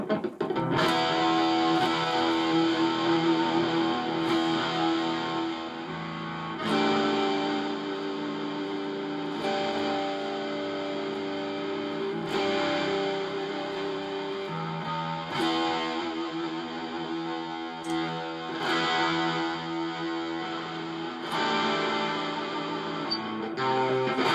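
A distorted Jackson Randy Rhoads Professional electric guitar from 1992 strums big, ringing chords, each struck hard and left to sustain in a steady rhythm, loud and alone.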